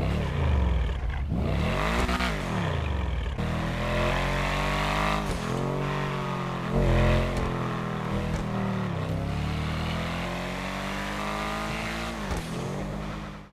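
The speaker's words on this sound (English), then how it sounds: "this car is, it just growls" Growling car engine in GTA Online, loud and close, rising and falling through repeated revs and gear shifts with a rough, throaty growl throughout.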